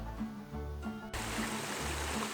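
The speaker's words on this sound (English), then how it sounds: "a spring stream running down into the river. I love that sound." Soft, steady rushing and trickling of a spring stream running down into a river, faint and continuous beside an old one-lane bridge, with brief low tonal hum early on.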